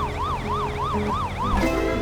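Ambulance siren in the Poly Bridge 2 video game, a loud wailing two-tone sweep cycling rapidly about five times in quick succession, heard alone without talk.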